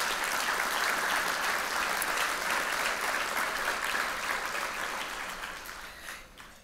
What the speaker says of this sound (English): So I think we should give PACT a round of applause